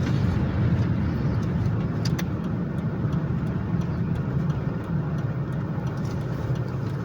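A car drives through a snowy residential neighbourhood of Winnipeg in winter, giving a steady low hum of engine and road noise heard from inside the car for the whole stretch, with no talking.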